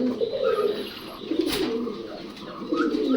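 Pigeons coo softly and repeatedly close by in cages, low throaty murmurs rolling one after another with a brief rustle in the middle.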